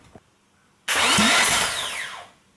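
A Nissan SR20 engine in a Sentra swap is cranked by its starter, a sudden loud whirring burst that holds steady for over a second and then fades off, with no talking over it.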